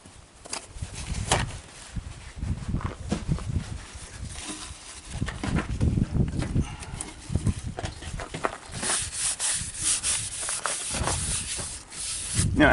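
A rag is rubbed over the surface of a Mercedes-Benz W114/115 Euro headlight assembly with lacquer thinner, giving steady close scrubbing and swishing strokes in an uneven rhythm, without talk.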